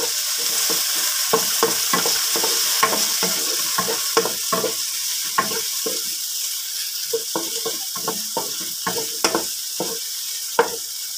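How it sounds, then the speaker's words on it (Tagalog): Garlic, onion and tomato sautéing in a pan, a steady close sizzle with frequent sharp scrapes and clinks of a spatula stirring in an uneven rhythm, no talking. "Pag ako'y nagigisa guys, nauna talaga bawang. Pagsabayin na natin yung sibuyas at saka kamatis."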